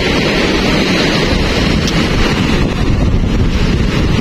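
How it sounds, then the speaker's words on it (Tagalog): Strong typhoon wind roars across Boracay's Front Beach, buffeting the microphone in a loud, continuous rush with surf and water noise mixed beneath, no voices. "lakas ng hangin dito sa Front Beach."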